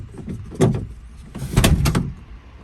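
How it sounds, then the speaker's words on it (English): A 1966 Ford Mustang door swings open after a new door panel is fitted, giving two close, solid mechanical clunks about a second apart with no talking. "I'm going to check to make sure that I have this installed correctly and I can open the door."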